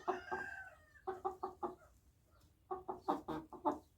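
A young American Bresse hen gives two bursts of rhythmic clucking, each a quick run of four or five close, clear calls separated by a brief quiet gap.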